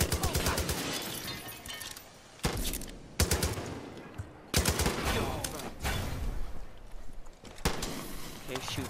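Gunfire in the video game Far Cry 5: a dense run of loud shots and bursts, several sharp cracks with quieter gaps, close and under speech.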